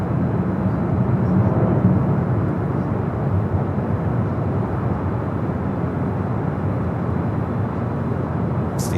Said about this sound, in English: Got that special livery United Dreamliner now rolling down that 25 right.